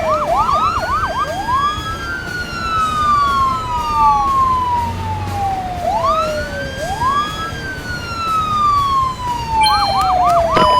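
Emergency vehicle sirens in the video game Emergency HQ: several overlapping wailing and yelping sirens sweep up and down continuously, loud and close, with rapid yelp bursts at the start and end.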